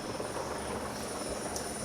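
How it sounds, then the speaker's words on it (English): A helicopter hovers above a sailing in-port race in The Hague, its steady rotor and engine drone filling the air, loud and continuous with no talk. "Up in the helicopter, our eye in the sky."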